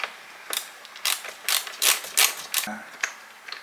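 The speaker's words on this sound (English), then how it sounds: "You can quickly undo the bolts." A wrench ratchets off bolts on a Porsche 928 during an electrical repair, giving several short bursts of quick clicking with brief pauses between them, close by and fairly quiet, with no talking.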